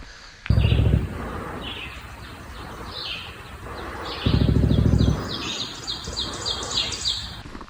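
Birdsong in the woods on a mountain hike: repeated bright chirps and tweets from several birds at moderate distance, mixed with two short bursts of close rustling or handling noise.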